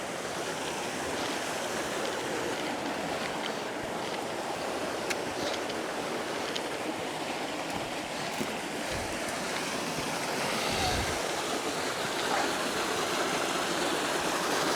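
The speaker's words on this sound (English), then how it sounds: "That's a waterfall for me," Steady broadband rush of falling water from a waterfall on a scenic wild hillside hike, loud and continuous throughout with no voices.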